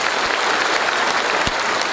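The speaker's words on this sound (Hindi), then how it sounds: "पटना के लिए एक बार जोरदार ताली होनी चाहिए पटना के लिए" Audience applause for Patna at an event: dense, steady clapping from a large crowd, loud and continuous, with no pauses or voices on top.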